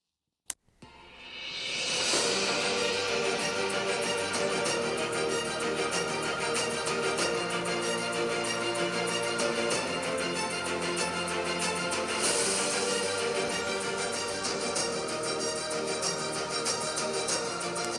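Dell XPS 13 2-in-1 laptop with 12th-gen i5 playing a speaker test at 80% volume through its stereo speakers beside the screen; dense, loud, steady music-like playback fills the clip after a brief quiet start.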